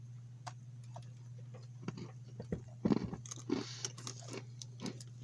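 Chewing on dry military ration crackers, close crunchy bites and mouth clicks growing busier, quiet over a low steady background hum, without talk.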